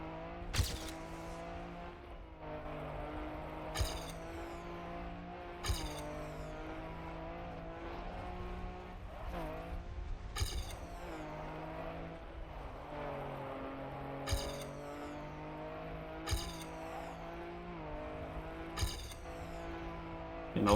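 A race car in a racing video game, engine droning steadily through drifts with repeated sharp tire squeals at short intervals, fairly quiet and with no one talking.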